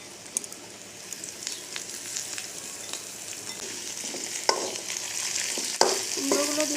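Pumpkin pieces fry in a pan with dried shrimp and onion, a soft steady sizzle broken by scattered clicks and scrapes of stirring, with a few sharper clanks toward the end.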